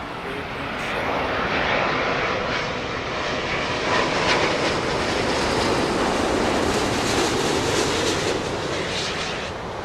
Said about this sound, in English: Iberian, that A350 coming in from Madrid.